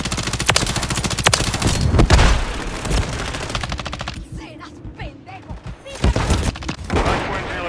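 Bal-27 assault rifle fire in Call of Duty Modern Warfare 3: loud rapid automatic bursts broken by a brief lull, with distant shots and game voices speaking in between.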